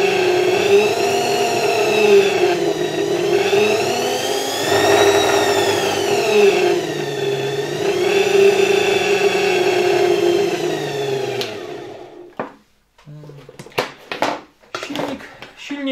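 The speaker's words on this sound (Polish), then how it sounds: "Silnik działa dosyć głośno, tak jak słyszeliście, i w pewnym momencie wpada w takie wibracje." A 1978 Ural vacuum cleaner motor, fed through a voltage regulator, runs loudly with a droning whine that wavers and vibrates for about eleven seconds, then cuts off, leaving scattered handling clatter.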